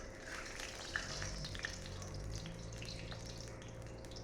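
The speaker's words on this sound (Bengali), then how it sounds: "3টে শুকনো লঙ্কা দিয়ে দিব, একটু কালো জিরে, তেলটাকে ভালো করে গরম করে নিতে হবে।" Three dried red chilies and black cumin seeds frying in hot oil in a home kitchen, a soft continuous sizzle with faint crackles and a couple of small pops, fairly quiet and close.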